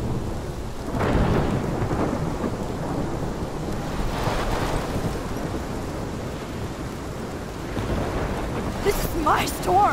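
Thunderstorm with heavy rain in the Life Is Strange video game: a constant loud downpour with several rolling thunder rumbles, plus a sharper crack near the end.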